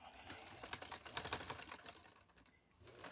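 A sewing machine stitches lace onto a garment neckline in a rapid, even run of mechanical clatter. The sound is faint and close, slows briefly, then picks up again.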